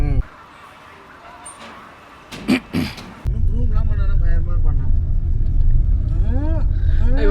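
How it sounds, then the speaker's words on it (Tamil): Busy traffic at the Koyambedu bus stand in Chennai, with quiet talk at first, then a sudden loud, steady rumble of cars and engines up close, with horn honks scattered through it. "இவ்வளோ டிராஃபிக்கா இருக்கு."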